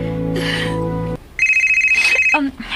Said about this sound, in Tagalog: Kadi, nanawag si Tom